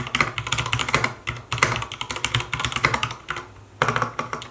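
Fingers type in quick bursts on an EpoMaker GK68XS compact mechanical keyboard with linear MX red switches, producing dense, close clacking keystrokes with brief pauses between runs.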